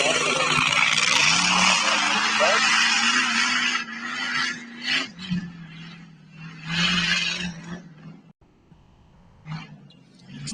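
Rally cars roar past on a Welsh off-road course, one loud engine note rising and fading, then further passes with gravel hiss and a lull, and a voice speaking between them.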